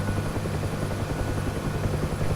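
A UH-1H Huey helicopter in the DCS flight simulator gives a steady, loud rotor and turbine drone with a low rhythmic thump, running continuously with no voices over it.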